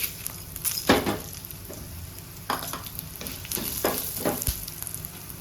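Fenugreek, black pepper, coriander seeds and cumin are stirred while roasting in a dry pan, a soft scratchy rattle of seeds with several sharper scrapes of the spoon, close and steady.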